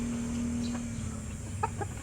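Soft clucking from a chicken nearby, a few short calls over steady background noise.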